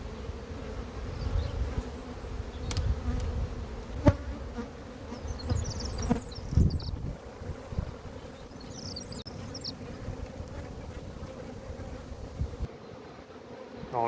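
Honeybees swarm around an opened hive as a beekeeper spreads its ten frames apart, giving a steady, dense buzzing drone throughout with occasional louder passes close by and soft handling knocks.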